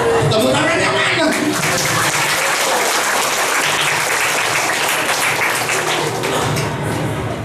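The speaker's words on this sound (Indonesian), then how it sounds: "Tepuk tangan yang mana?" Children and adults applaud at an Islamic elementary school event, a loud, dense clapping that starts strong and slowly thins, with voices audible underneath.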